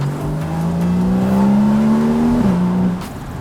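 A Porsche 981 Boxster S engine drones loudly and steadily climbs in pitch as it revs, then drops briefly as it shifts gear, heard from inside the car.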